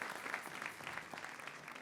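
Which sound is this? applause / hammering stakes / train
applause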